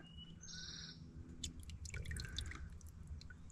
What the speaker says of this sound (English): There's a nice flow coming out of the pipe.